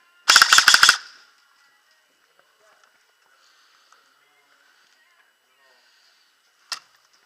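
An indoor airsoft game: a rapid burst of airsoft gunfire rattles off at close range, followed by near silence with faint movement and then one more sharp single shot.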